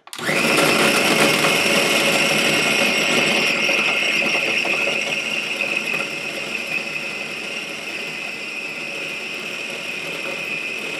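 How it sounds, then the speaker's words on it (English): A food processor grinds pork for sausage with a loud, steady motor whine that starts abruptly and runs continuously, easing slightly partway through. "into the food processor it goes. On goes the lid."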